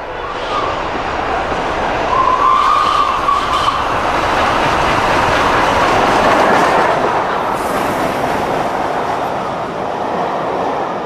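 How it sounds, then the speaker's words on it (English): The Flying Scotsman steam locomotive runs easily through Greatley after climbing the long hill from Salisbury, a loud, continuous, close rumble of the train with rail noise throughout. "Flying Scotsman was running easily through Greatley"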